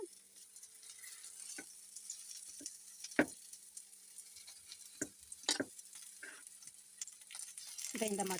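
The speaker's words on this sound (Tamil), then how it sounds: "இதையும் எண்ணெயிலேயே நல்லா செவர விட்டு வதக்கிடுவேன்" Chopped eggplant sautéing in oil in a pan, a soft steady sizzle broken by occasional spoon scrapes and stirs, close and fairly quiet, with a voice speaking briefly.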